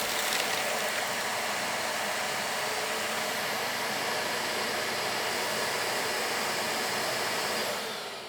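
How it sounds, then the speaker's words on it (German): A Narwal V40 docking station automatically empties the cordless vacuum's bin with its own 1000-watt motor, producing a loud, steady, close-up whoosh of broadband airflow that holds constant before tapering off at the end. "Sobald ihr den Staubsauger in die Dockingstation einsetzt,"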